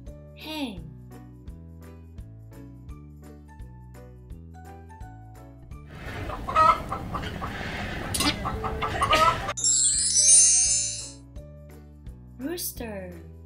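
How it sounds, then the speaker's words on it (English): A hen clucks in a burst of busy, scratchy calls, followed by a brief high squawk, with a simple melodic tune playing before and after. "hen."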